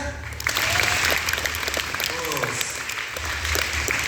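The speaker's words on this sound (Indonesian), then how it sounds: "Oke, kalau Anda setuju, cukup tepuk tangan." Students at a junior high school training session in Pangururan, North Sumatra, clap together in a steady, sustained round of applause that fills the room, with a few voices faintly under it.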